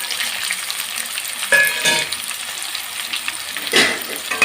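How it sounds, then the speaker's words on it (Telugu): Cashews and raisins frying in oil in a pan for village-style upma, a steady close sizzle with a few louder stirring scrapes and spatters. "ఇవి కూడా కాస్త ఫ్రై అయ్యేంత వరకు తర్వాత ఇందులోనే జీడిపప్పు ఎన్ని ద్రాక్ష అవి కూడా వేసేసుకున్నాం"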